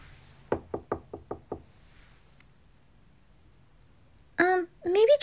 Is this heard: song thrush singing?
no